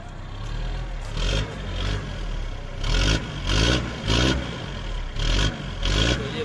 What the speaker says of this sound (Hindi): बड़ा ज़बरदस्त साउंड है गाड़ी का